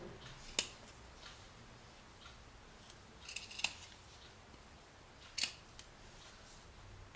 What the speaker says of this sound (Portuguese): Eu enfio aqui a tesoura e forço um pouquinho para abrir espaço nessa fibra para entrar o pescoço.